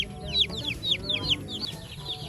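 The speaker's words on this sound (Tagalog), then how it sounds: "Nilalagay na po mga kadilag ni Mama sa kulungan yung mga sisiw." Broiler chicks cheep in rapid, high, repeated peeps as they are placed into their cage, the chirps close and lively over a low background rumble.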